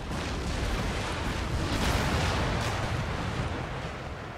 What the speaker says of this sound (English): Number of the cannons are firing.